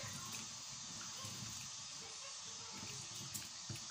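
Tap water runs steadily while cassava leaves are washed by hand in a home kitchen, producing a constant close rush with faint splashes and no pauses.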